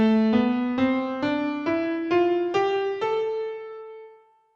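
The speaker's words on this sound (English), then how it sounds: "A minor scale sounds like this." A minor scale played on a pitched instrument, eight distinct notes ascending at a steady pace, the final tone sustained and dying away on its own.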